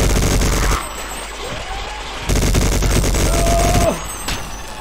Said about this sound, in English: Man, this minigun is helpful.